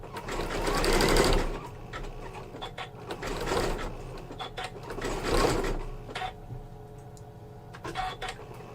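A sewing machine stitches across a coiled rope bowl in several rapid whirring runs, loud and close, pausing briefly between bursts before slowing at the end.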